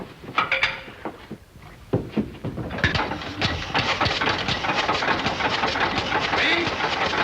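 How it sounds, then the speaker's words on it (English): An old car engine from a 1940s comedy sputters and then catches, settling into a steady rumbling run close by, with a few knocks and rattles at the start. "Keep that engine running."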